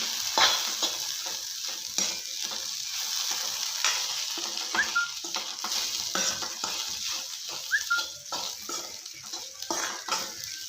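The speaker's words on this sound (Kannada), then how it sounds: "ಇವಾಗ ಚೆನ್ನಾಗಿ ಮಿಕ್ಸ್ ಮಾಡ್ಕೊಳ್ಳೋಣ" A spatula stirs okra (lady finger) stir-fry for a North Karnataka style palya in a hot pan. Steady sizzling and frying runs throughout, with repeated scraping strokes and light clinks of the utensil against the pan, close and without speech.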